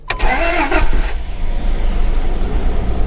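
A Dodge Dakota with a manual shifter and worn shifter bushings cranks briefly and catches, then settles into a low, steady idle rumble, loud and close with no talk.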